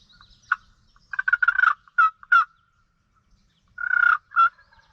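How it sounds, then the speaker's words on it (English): A wild turkey gobbler gobbles in rapid rattling bursts, one call then a longer one a moment later, clear and fairly close in a quiet setting. "After getting this gobbler to respond"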